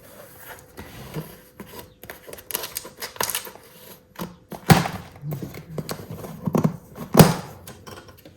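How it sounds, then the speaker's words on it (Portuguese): Scissors snip through packaging while unboxing new books, a series of irregular crisp cuts and crinkles, some sharp and close, with quieter rustling between them. "Não sei se vou conseguir cortar isto com esta tesoura."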